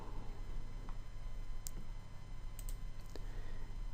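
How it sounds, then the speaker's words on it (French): Computer mouse clicks in mapping software, a few sharp, faint clicks spaced apart over a steady background hum, no talking. "Je clique sur étendre."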